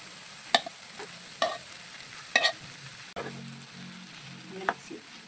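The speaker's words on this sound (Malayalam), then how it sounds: "നമുക്ക് ഇതിലേക്ക് ഇറച്ചിട്ട് കൊടുക്കാം" Meat being stirred into softened tomato and onion in a pan for biryani, with a soft, low sizzle broken by several sharp scrapes and clinks of a spoon against the pan, close and fairly quiet.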